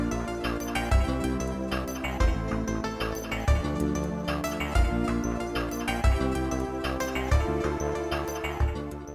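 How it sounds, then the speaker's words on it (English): Donkey Kong Country 2 mine level music plays loud and continuous, a dense synth bed with a low humming drone under rhythmic metallic clanks and thuds repeating about every second. "There's so many moving parts with the metal clanking, the synth, the humming."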